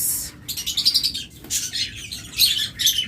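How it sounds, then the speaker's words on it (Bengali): Pet lovebirds, cockatiels and budgerigars chirp in quick, bright bursts, with several overlapping tweets repeating close by throughout. "এই চারটা পাখি এক ভাইয়ের জন্য নিয়ে আসছিলাম"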